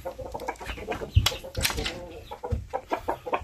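A hen clucks close by in a yard of breeding fowl, giving short uneven clucks and chuckles over a few seconds amid light background noise.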